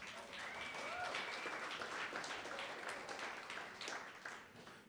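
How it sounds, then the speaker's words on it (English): Audience applause at the 2024 Supes' Choice Awards ceremony, a steady wash of many hands clapping that holds throughout, with a few faint voices and whoops mixed in. "Now, yeah, you can clap."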